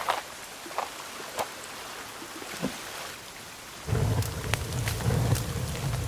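Rain and thunder in the video game The Forest: faint scattered cracks and drips at first, then a steady downpour sets in and continues at a moderate level.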